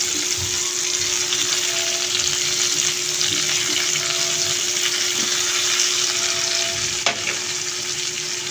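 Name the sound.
dried fish (buwad) sautéing in pan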